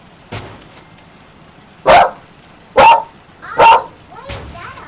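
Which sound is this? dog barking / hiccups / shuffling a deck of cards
dog barking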